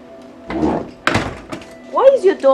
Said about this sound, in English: Door opened.